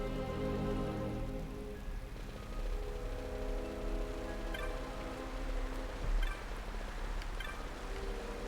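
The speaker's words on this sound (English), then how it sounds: "it's raining because for some reason it often rains in these sort of scenarios" Rain falls steadily in a Final Fantasy XII game scene, a dense soft patter under a low musical drone, even and continuous with a few brief ticks.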